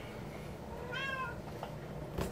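A cat gives one clear, fairly close meow in a home kitchen during cooking, standing out against a low background hum.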